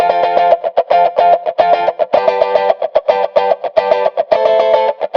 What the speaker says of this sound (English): if I play it right now, you'll get to hear that there is that wah effect already